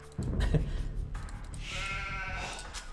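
Sheep bleat in a strategy game of the Age of Empires type, a loud close bleat opening the clip and followed by softer overlapping bleats and bright game chimes, with no talking.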